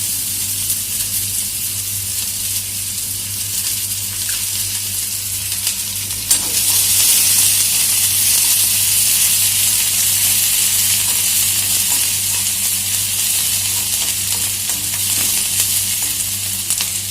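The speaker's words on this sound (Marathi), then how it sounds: "बघा कांदा पण आपला भाजलेला आहे" Onion fries with tomato and ginger-garlic paste in a pan, a loud, steady sizzle and hiss that swells brighter partway through and continues unbroken, with faint stirring beneath.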